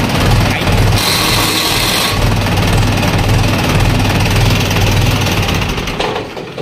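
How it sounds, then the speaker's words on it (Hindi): A Mahindra 475 tractor's diesel engine cranks and settles into a steady, loud, close idle with a low rumbling chug that holds constant throughout, with no voices over it. "महिंद्रा 475 ट्रैक्टर बहुत ही प्यारा ट्रैक्टर है।"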